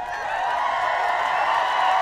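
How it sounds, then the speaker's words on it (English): A crowd cheering sound effect, a dense continuous roar of many voices that stays loud and even from start to finish. "The crowd goes wild."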